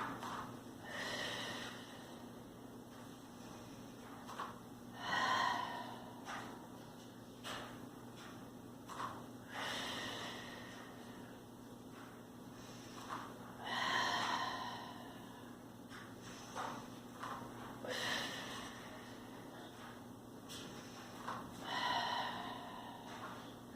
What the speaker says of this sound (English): Open up through the rib cage, and exhale, and inhale.